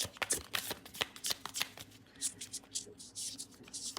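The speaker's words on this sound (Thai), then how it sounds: "เดี๋ยวผมจะสับไพ่นะครับ" Tarot cards are shuffled close up in a rapid series of papery riffles and slaps, with short pauses between bursts.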